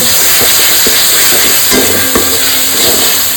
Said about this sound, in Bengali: দেবো একটু হলুদ, একটু লঙ্কা বাটা দিয়ে ভালো মতো একটু কষাবো।